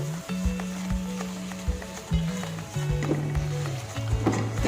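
Broccoli soup ingredients fry in a pan with a soft, steady sizzle and foaming, broken by repeated clacks of stirring, fairly quiet and close.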